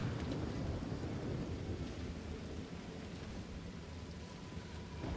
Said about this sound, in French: mais j'ai bien l'impression que c'est la première fois qu'il pleut dans le jeu.